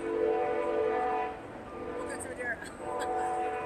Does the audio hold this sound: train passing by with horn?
yes